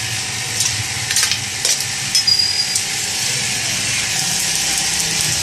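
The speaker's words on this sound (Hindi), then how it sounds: "थोड़े थोड़े 4 गूंद डालेंगे और इसको फ्राई करेंगे घी के अंदर" Pieces of edible gum (gond) frying in hot ghee, a steady close sizzle with a few scraping stirs and light clicks of the spoon against the pan, no voices.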